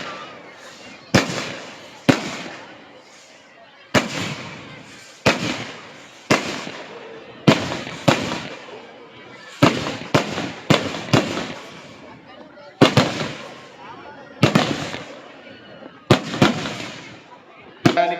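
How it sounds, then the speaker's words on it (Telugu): Fireworks at a Dussehra celebration on a junior college ground burst in a steady series of sharp, loud bangs, each trailing off into crackle, with voices and crowd noise underneath. "పెద్ద చప్పట్లతో ఈ బాణసంచాను కాల్వడం జరుగుతుంది"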